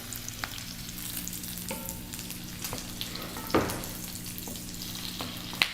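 Onions frying in a pan for beef stroganoff, a soft steady sizzle with occasional stirring clicks and a scrape, fairly quiet and without speech.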